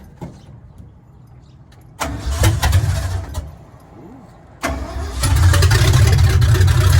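A carbureted car fitted with headers cranks and fires up after a few quiet seconds of small clicks, idles roughly, then roars into a louder, sustained rev, close and powerful.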